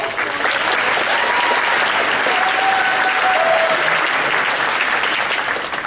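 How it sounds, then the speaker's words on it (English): Steady, loud applause from an audience at an 8th grade awards ceremony, a dense wash of clapping that holds evenly for the full stretch with no voices over it. "Applause, applause."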